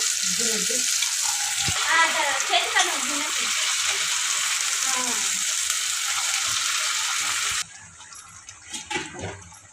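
Rice flour punugulu fritters fry in hot oil with a steady, close, loud sizzle and occasional stirring clinks, while someone talks over it; the sizzle drops suddenly near the end.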